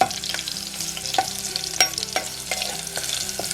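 A phodni of garlic and green chilli fries in a pan for cashew curry, sizzling steadily while a spoon stirs with regular scraping knocks, close up and without voices.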